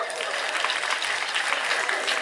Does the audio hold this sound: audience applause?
yes